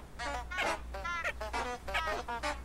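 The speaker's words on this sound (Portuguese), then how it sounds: "Barulho de ganso." Flowers in the Hogwarts Legacy video game give off a series of goose-like honks, about six nasal calls in quick succession, clear and fairly close over a low hum, with no speech.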